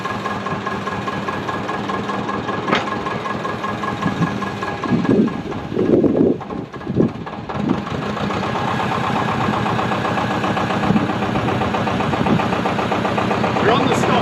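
Diesel engine of a Thwaites Tusker dumper runs steadily at a low idle, with a louder strained burst as the front of the machine is raised on its bucket, then settles back to a constant drone; talk is heard over the engine.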